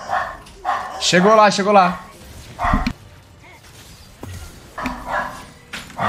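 A man imitates a dog barking with a run of quick yelping barks that cut over lively gaming talk among several young men.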